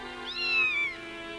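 A cat named Milky Ann gives a single rising-and-falling meow, clear and close, over a faint steady background hum.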